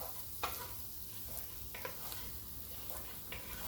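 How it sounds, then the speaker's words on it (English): Flour stirred into onions, garlic and tomato paste sizzling in a pan: a soft, steady fry hiss with a few spoon scrapes spaced a second or so apart, close and quiet. "1 teaspoon of all-purpose flour on here. Stir it together"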